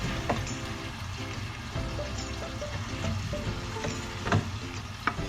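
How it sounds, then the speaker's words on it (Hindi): Water poured into a hot sizzling pan while cooking Punjabi yakhni pulao, then stirred; steady frying hiss with soft scraping and a few sharper clinks of the spoon against the pan, moderately close, no talking. "अब मैं थोड़ा सा पानी डाल रही हूँ। पानी डाल के थोड़ा सा चलाएंगे"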